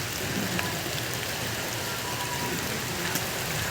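Steady rain pours down on a street where street lighting is being repaired, a dense, even hiss of drops, loud and constant throughout with no voices.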